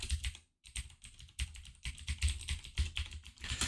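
Rapid keystrokes on a computer keyboard as a username and password are entered, a close, quiet run of irregular clicks with a short pause near the start.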